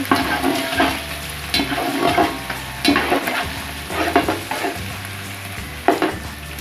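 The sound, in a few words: garlic and ginger paste frying and being stirred in a pan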